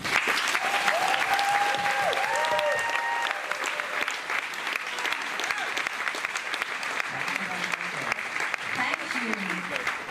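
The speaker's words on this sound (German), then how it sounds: "Also einen großen Applaus an Johannes." An audience at a workshop applauds Johannes Hartl, steady full clapping from a crowd for about ten seconds with a few voices and whoops mixed in.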